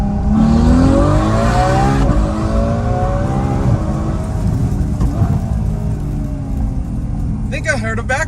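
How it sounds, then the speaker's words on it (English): A Ferrari F12 Berlinetta V12 with a Valvetronic Fi exhaust revs loudly and close up, its roar rising and falling, with sharp crackling pops from exhaust backfire near the end. "I think I heard a backfire finally."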